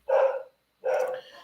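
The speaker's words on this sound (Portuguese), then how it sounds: "Peço desculpa se vocês estiverem escutando um cachorro latindo de fundo" A dog barks twice in the background, two short, clear barks with a brief pause between them and no other sound around them.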